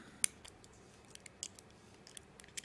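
A small tool piece turns the battery hatch on a Joyetech eGrip vaporizer, giving faint scattered clicks and ticks. One sharper click comes early among quieter tapping at a low overall level, with no voices.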